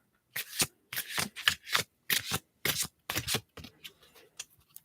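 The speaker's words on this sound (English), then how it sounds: "I'm going to shuffle my Flower Magic cards" Flower Magic oracle cards are shuffled close up in quick riffling bursts, about nine crisp rustling flurries in an uneven rhythm, then softer fumbling at the end, with no talk.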